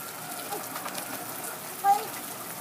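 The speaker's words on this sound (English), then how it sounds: "the rain's coming down" Rain falls steadily in a soft, even hiss on a rainy day, faint and continuous throughout, with one brief sharper chirp-like sound near the end.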